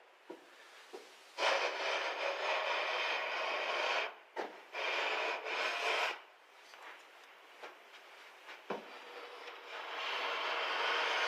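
A hand plane takes long shavings off the edge of a wooden board for a long grain edge joint, several loud, sustained swishing strokes lasting a second or two each, close and separated by brief pauses, with no talking.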